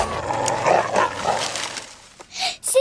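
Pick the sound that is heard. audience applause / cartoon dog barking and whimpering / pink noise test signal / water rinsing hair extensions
cartoon dog barking and whimpering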